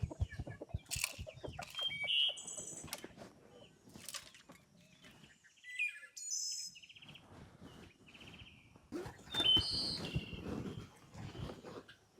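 Chickens cluck and squawk nearby with bursts of wing flapping and scuffling, a busy jumble of fowl sounds throughout.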